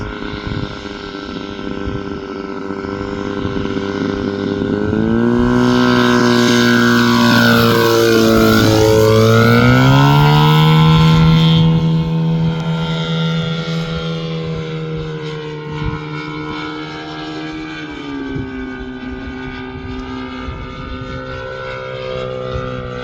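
Giant scale RC F8F Bearcat model airplane with a Synapse gyro flying past: a loud droning engine whose pitch rises and falls as it sweeps by overhead, then settles into a steadier distant hum, with no talk.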